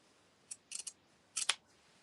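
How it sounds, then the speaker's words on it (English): Sharp scissors snip through stitches in thick fabric while unpicking a seam, a few crisp close-up clicks in two quick clusters against near silence. "And yes, I am using my scissors."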